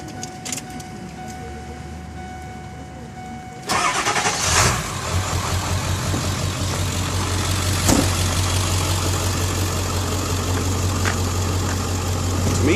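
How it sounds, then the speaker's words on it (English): A diesel vehicle's engine cranks and fires at a gas station after a few seconds of quiet clicks, then settles into a steady, rumbling idle that continues loud and close to the end. "Just want to show you how this thing sounds when it first starts up."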